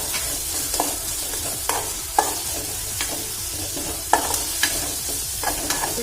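Tomato and salt frying in a pan, with a steady close sizzle broken by sharp scraping stirs at irregular intervals, no voices.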